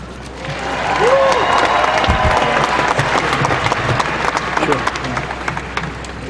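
A large crowd at a pro-life rally at a state capitol breaks into sustained applause and cheering, building quickly and holding steady, loud and dense, with scattered shouts and a few voices rising above the clapping.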